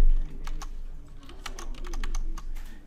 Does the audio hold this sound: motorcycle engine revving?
no